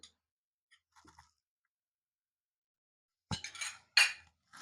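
A spoon clinks against a bowl while Maggi vada batter with green coriander and lemon juice is mixed, a few faint taps early, then a louder scraping, clattering burst near the end.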